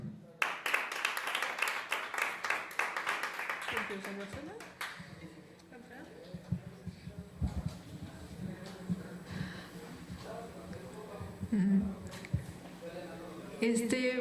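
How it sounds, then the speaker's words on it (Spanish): Applause from the audience opening the final panel on women and disability at a Women's Day event, a loud burst of clapping for about four seconds that fades as people begin talking in the room. "Démosles un fuerte aplauso."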